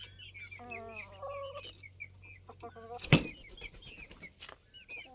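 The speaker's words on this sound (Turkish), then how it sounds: "Bu cüce koşin horozumuz." A bantam Cochin rooster clucks in short, repeated bursts up close, with a sudden loud thump midway, then more clucking continues.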